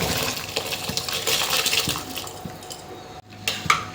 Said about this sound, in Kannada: ಈಗ ಅಕ್ಕಿ ತೊಳ್ಕೊಂಡು ಹಿಡ್ಕೊಂಡಿದ್ವಿ ಅದನ್ನು ಹಾಕ್ತಾ ಇದೀವಿ